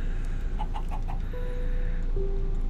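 Chickens cluck in a Minecraft modpack survival world, a quick run of four soft clucks followed by a longer drawn-out cluck, heard alone over a low steady background hum.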